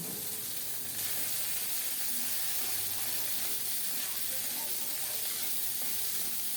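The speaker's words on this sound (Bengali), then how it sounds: "আবারও কিছুক্ষণ নেড়ে চেড়ে ভেজে নিচ্ছি" Chillies and garlic cloves frying in a pan with a little mustard oil for a mashed relish, a steady close sizzle running throughout with soft stirring scrapes.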